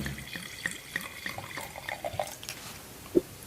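Sauvignon Blanc wine pours from a screw-cap bottle into a glass, a soft continuous trickle with light splashes and a brief clink near the end.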